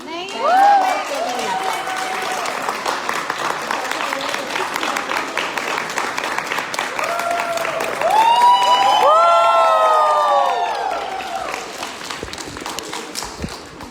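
An audience at a gathering claps steadily for a long stretch, with whoops and raised voices cutting through midway and the clapping swelling before it fades near the end.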